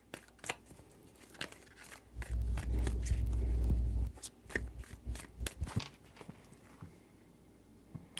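Tarot cards shuffled by hand in three rounds, with dense papery riffling and soft slaps, one longer continuous rustle in the middle, close and fairly quiet with no talking.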